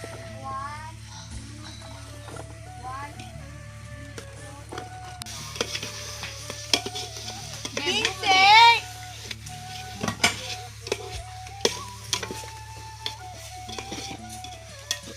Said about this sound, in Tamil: இஞ்சி பூண்டு பேஸ்ட் போட்டாச்சு